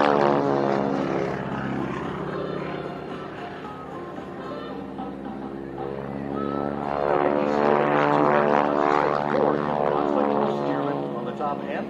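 A Stearman biplane performs aerobatics at an airshow, its propeller engine droning loudly and continuously with rising and falling pitch as it maneuvers, while an announcer talks over it.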